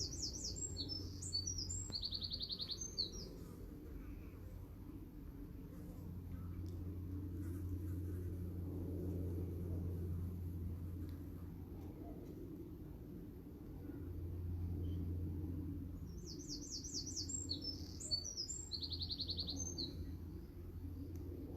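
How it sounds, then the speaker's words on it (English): Two bursts of high, rapid bird chirps sound a few seconds apart over a quiet outdoor background with a low distant rumble. "You might be able to hear the birds and the bees."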